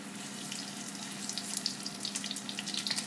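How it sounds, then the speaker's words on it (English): Squid rings frying in small portions in a large kitchen pan, giving a steady close sizzle and crackle with bright popping spatters throughout, no voices. "We're going to fry off the squid rings in small portions"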